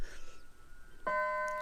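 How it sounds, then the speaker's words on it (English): A doorbell rings once inside a home, a clear sustained electronic chime tone that starts abruptly after a quiet moment and rings steadily to the end. "that's my doorbell."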